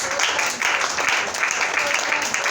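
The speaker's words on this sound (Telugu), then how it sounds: "చప్పట్లు కొట్టి దేవుని ఏకీభవించి" A church congregation claps their hands in agreement, a steady, fairly loud wash of applause lasting the whole moment, with faint voices beneath.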